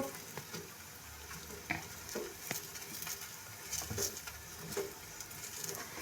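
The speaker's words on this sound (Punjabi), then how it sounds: "ਘਿਓ ਲਗਾ ਕੇ ਰੋਟੀ ਨੂੰ ਚੰਗੀ ਤਰ੍ਹਾਂ ਅਸੀਂ ਰਾੜ ਕੇ ਸੇਕਾਂਗੇ ਤਾਂ ਕਿ ਇਹ ਥੋੜੀ ਕ੍ਰਿਸਪੀ ਵੀ ਬਣੇ" Makki methi roti roasting on a hot griddle with desi ghee gives a soft, steady crackling patter with scattered small pops. It sits at a moderate level, with no voices.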